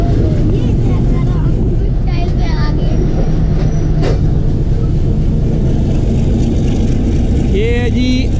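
A 130DN Thall Express train runs on the line from Taxila toward Attock, heard from right beside the locomotive engine: a loud, steady, close rumble and rattle throughout, with faint voices underneath.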